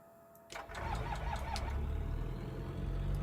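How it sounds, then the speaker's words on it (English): In X-Plane 12, a Shark UL light aircraft's propeller engine cranks and catches, then settles into a steady rumbling idle after a brief click and whir at the start. "note the beautiful sounds of the engine"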